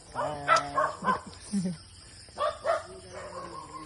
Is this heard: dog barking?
yes